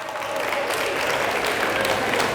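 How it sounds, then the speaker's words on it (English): Audience applause at an early childhood association keynote, a steady wash of many hands clapping, fairly loud and continuous throughout with no pauses. "Give yourselves a round of applause"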